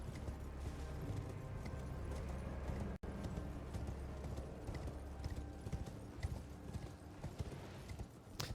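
Horse hooves clip-clop steadily in Elden Ring, a continuous near rhythm of hoofbeats over dense game ambience, with an occasional faint whinny.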